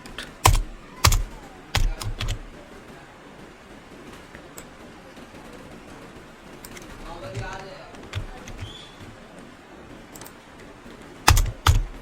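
Computer keyboard keys clacking in scattered bursts while code is typed for a React and Tailwind CSS ecommerce site, with sharp clusters near the start and end and a quieter stretch of soft taps between, close and clear.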